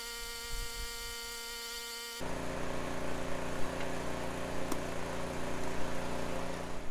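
Steady mechanical drone of an old tractor engine running, a constant tonal hum that grows louder and rougher a couple of seconds in and continues evenly, heard alone without talk.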